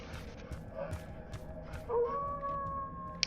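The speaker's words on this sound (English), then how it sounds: "He's howling directly north of us." A creature in the MistWorld video game lets out a rising, sustained howl, somewhat distant and fairly quiet, following a few soft thuds and rustles.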